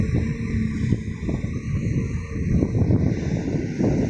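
Wind gusts steadily against the microphone outdoors, rumbling and buffeting with no voices heard, at a roadside overlooking mountains and sugarcane fields.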